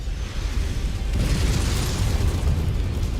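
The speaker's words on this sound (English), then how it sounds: "and more artillery" Artillery explosions in a MechWarrior video game, a rumbling burst that swells into a sustained heavy boom with crackling debris, loud and close, no talking.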